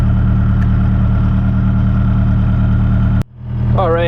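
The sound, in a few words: car engine idling after starting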